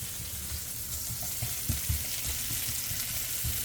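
Chopped shallots sizzle and crackle in hot oil in a pan, a steady close frying hiss with soft low thumps and scrapes as they are tossed around.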